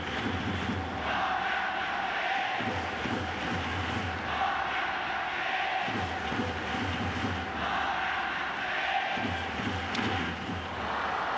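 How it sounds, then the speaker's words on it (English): A large baseball crowd in the right field bleachers cheers and chants in a steady, continuous roar at an exhibition game between the Yankees and Yomiuri Giants in Tokyo, distant and diffuse with rhythmic swells. "The cheering in the right field bleachers right now."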